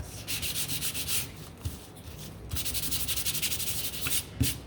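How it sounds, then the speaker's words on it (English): Close hand sanding of a wooden door hanger piece for an Easter craft sign, rhythmic scratchy back-and-forth strokes in two quick bursts split by a short pause, with small taps of handling. "Come in here, give this one a sand, and we'll do the dress."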